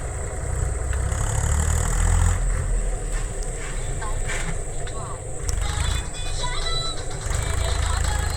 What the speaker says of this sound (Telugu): ట్రాక్టర్ కూడా వస్తుంది అనమాట.